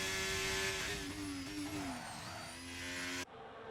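A Ferrari race car in a racing video game engine loud and close as it slows to enter the pit lane at the Las Vegas Grand Prix, a droning tonal whine that drops in pitch before cutting off abruptly.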